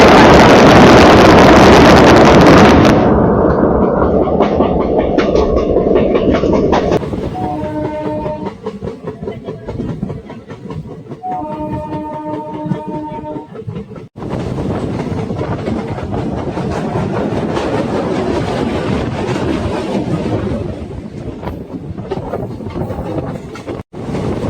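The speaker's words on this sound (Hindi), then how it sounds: "और अब हमारी ट्रेन यहाँ से बिहार शरीफ जंक्शन से दनियामा की ओर चली जाएगी।" A 75272 DEMU passenger train runs on the rails between Bihar Sharif Junction and Daniyawan in Bihar, giving a loud, steady rumble with rhythmic clickety-clack of wheels over rail joints and a brief horn-like tonal passage partway through.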